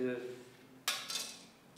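Knife slicing through soft brioche buns, a short broadband scrape followed by a second cut, close and fairly quiet after a brief trailing voice.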